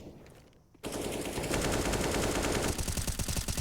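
Rapid automatic gunfire in CS:GO on the Ancient map during a pro match, a loud close burst of fast rhythmic shots that starts abruptly after a brief lull and continues for several seconds.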